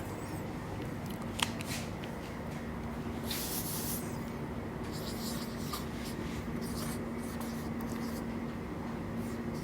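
Marker or chalk scratches across a classroom board in short strokes and taps, faint against a steady background hum, while a teacher works through an English example.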